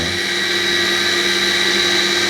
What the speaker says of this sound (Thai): เราก็ค่อยตัดทับทิมนะครับ ใส่ไปในเครื่องช้าๆนะครับ อย่างที่เรียนนะ เครื่องสโลว์จูเซอร์นี่